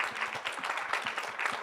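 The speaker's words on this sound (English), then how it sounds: "one more round of applause to our lovely panelists over here" A panel-discussion audience claps for the panelists at a bra-fitting talk, a short burst of soft, fairly distant applause.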